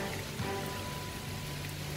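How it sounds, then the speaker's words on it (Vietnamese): Rain begins falling outdoors after a haircut ceremony, a faint, steady patter of drops spread evenly across the scene with no voices. "những hạt mưa bắt đầu rơi"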